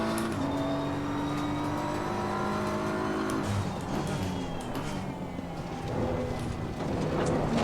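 A BMW M4 GT3 race car engine in Assetto Corsa Competizione drones steadily under acceleration, a continuous loud buzzing engine note with shifting harmonics and no talking.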